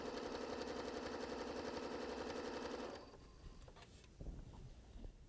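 A Janome Continental M7 sewing machine stitching with ruler work, a rapid, even mechanical whirr for about three seconds that stops, leaving faint handling clicks and taps.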